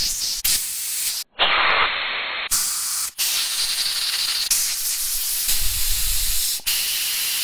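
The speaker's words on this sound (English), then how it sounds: "we're going to take the carburetor itself and blow out every single port inside and out" Compressed air blasts through the ports of a Toro mower carburetor in a series of loud, sharp hissing bursts separated by short pauses.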